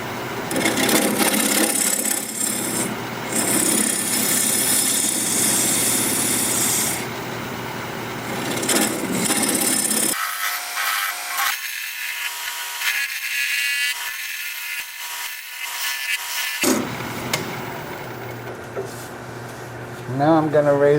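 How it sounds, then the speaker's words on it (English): Olive wood spinning on a wood lathe and cut with a 3/8 inch gouge, giving a loud, continuous scraping rasp. Midway it drops to a thinner, higher hiss, then the full cutting noise returns near the end. "I'm going to switch to a 3/8 inch gouge to make the recess"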